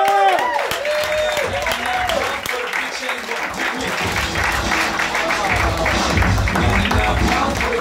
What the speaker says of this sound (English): Clap it up, slash cut for Nick Mullen!